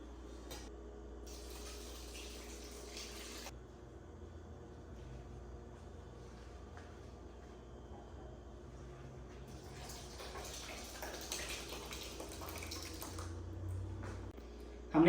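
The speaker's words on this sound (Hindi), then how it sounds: "अब जो हमारा छेना है उसको हम छान लेते हैं।" Water runs and splashes steadily as whey drains from curdled milk through a strainer, with a low background hum and occasional rattles near the end.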